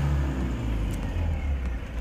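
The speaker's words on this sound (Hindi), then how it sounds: "अब फिर दोबारा रेस करेंगे तो गाड़ी हमारी बिल्कुल रेस होगी" A Tata Magic Mantra BS4 engine runs after repair, a close, steady low rumble with slight swells as it is revved, and no voices.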